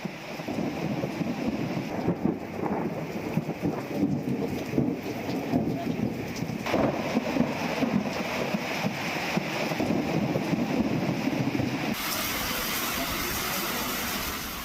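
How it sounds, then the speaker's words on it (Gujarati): A heavy downpour in Vadodara roars continuously while strong wind gusts rumble underneath, a dense, unbroken wash of noise throughout. "વડોદરામાં ભારે પવન સાથે ધોધમાર વરસાદ વરસી રહ્યો છે"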